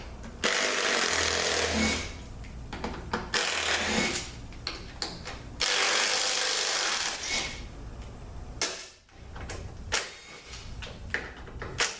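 A power tool buzzes in long bursts, backing bolts out of a ZF8HP70 automatic transmission during teardown, with ratcheting clicks and metallic clatter between runs, loud and close.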